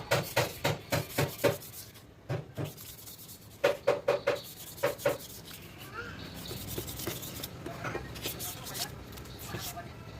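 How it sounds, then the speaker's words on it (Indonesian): Bursts of quick rhythmic rubbing as 240-grit sandpaper scrubs a motorcycle clutch bell, come in short runs, then give way to quieter scraping under a voice. "Selanjutnya kita bersihkan di bagian gesekan dengan memakai amplas grip 240."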